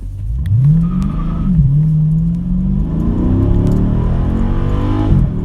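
A Dodge Scat Pack launches hard off the line with launch control: the engine revs up loud and close, then climbs through rising gear pulls with a brief dip at each shift, ending in a sharp drop.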